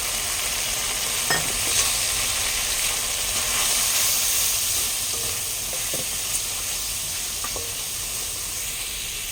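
Coriander, cumin and fennel spices fry in a hot pan for a korma, giving a steady close sizzle with a few faint stirring clicks and no voices.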